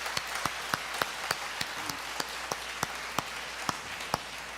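A church congregation claps for returning short-term mission teams during a Sunday service, producing a steady, moderately soft patter of many hands in a large room, with a few louder claps standing out.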